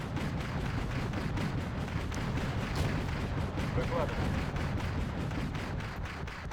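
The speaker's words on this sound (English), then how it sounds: "Dude, just shoot your gun." Gunfire and heavy artillery in the real-time strategy game Wargame: European Escalation, a dense, continuous barrage of booms and rapid shots over a low rumble, heard close and loud with voices mixed into the battle din.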